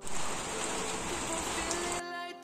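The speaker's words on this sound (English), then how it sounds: "And now it's raining again." Steady rain falls in Mokokchung with a dense, even hiss of drops on surfaces for about two seconds before it gives way to a quieter tonal background.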